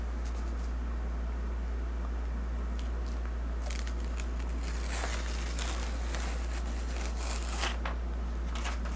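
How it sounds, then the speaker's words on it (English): Parchment paper tears as it is peeled off a heat-pressed, sublimated viscose cleaning cloth: a few short, crisp crinkling and ripping bursts over a steady low electrical hum. "my paper tore because it's sticking to it a little bit too"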